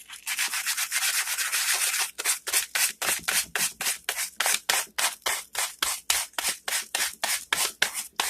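A cut drink-can edge, for a penny alcohol stove, being sanded: a long continuous scrub, then a steady run of about twenty loud, rhythmic back-and-forth rasping strokes, close up with no speech.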